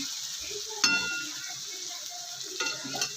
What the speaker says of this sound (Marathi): आपण कांदा आणि टोमॅटो तेलामध्ये चांगला परतून घ्यायचं